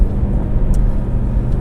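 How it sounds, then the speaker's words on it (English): A supercar drives along with a steady low engine drone and road noise from inside or nearby, fairly even in level, with a couple of faint brief clicks. "let's hop in the car and we'll go for a little drive"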